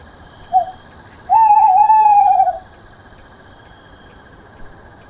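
An owl hoots in the Boogeyman video game: one short hoot, then a longer sustained hooting call, clear and fairly close over a quiet hissing background.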